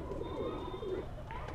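A border-marked zeera pigeon with red feet and golden tail markings coos in a soft, close, low call amid quiet background hiss.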